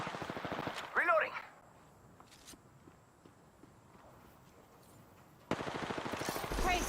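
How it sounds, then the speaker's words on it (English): Video game gunfire crackles in bursts at the start and end, with quick rapid shots close by, separated by a quieter stretch of faint footsteps and ambient noise. "They're shooting at me."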